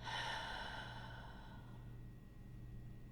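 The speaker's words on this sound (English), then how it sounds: "Go ahead and take a deep breath in now. Hold it and exhale." A deep breath drawn in and slowly let out, soft and close, the airy rush strongest at the start and tapering into a long quiet exhale, with no talking.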